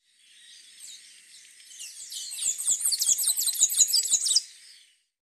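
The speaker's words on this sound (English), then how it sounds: "Blue-gray tanager." A blue-gray tanager calls alone in a rapid series of high, thin chirps and twitters that build, grow denser and louder in the middle, then stop abruptly, heard fairly close.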